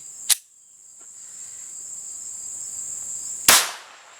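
A Glock 19 pistol fires 9mm hollow point rounds outdoors: one sharp shot near the start and a second loud crack about three seconds later, with a steady high insect buzz between them.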